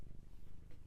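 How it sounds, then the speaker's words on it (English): A cat purring up close, a steady low rumbling pulse that runs continuously through the short moment. "if you hear purring, that is my cat."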